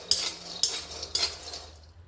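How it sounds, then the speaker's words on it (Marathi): Dry-roasted peanuts are scooped out of a pan, with three distinct scraping sweeps of a spoon, each a bright rattle, fading to quiet at the end. "माझे शेंगदाणे सुद्धा व्यवस्थित भाजून झालेत ते सुद्धा आपण साईडला काढून घेतोय"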